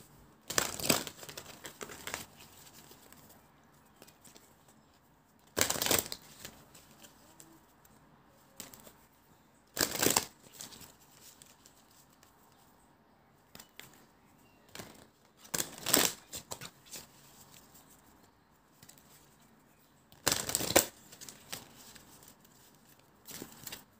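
Tarot cards being shuffled and drawn: five or six brief bursts of loud riffling and crinkling spaced several seconds apart, with quieter soft handling and rustling of the cards between them.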